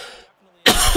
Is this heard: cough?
yes